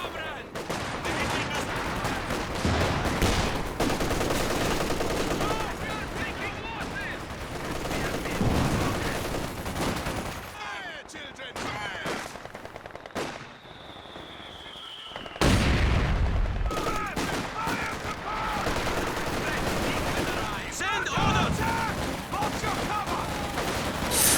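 Dense battle din from Company of Heroes 2, with overlapping gunfire bursts from double machine guns and booming mortar impacts; loud and continuous apart from a short lull partway through.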